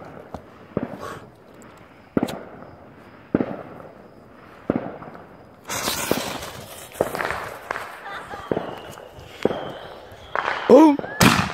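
Fireworks going off in a back yard: a string of sharp, loud bangs and crackles, sparse at first and then denser, with hissing bursts and people talking in between.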